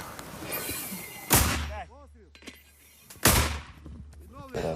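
Two loud, sharp booming mortar shots a couple of seconds apart, each followed by a rolling echo, with a voice and chirping birds in the background.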